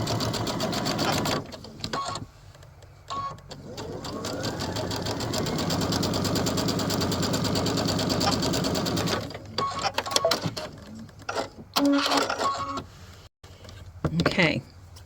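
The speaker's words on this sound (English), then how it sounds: "now we're going to sew on the other side of the diagonal line" A sewing machine runs steadily for several seconds, stitching beside a drawn diagonal line on a Double Star quilt block, with short starts and stops and brief handling noises around it.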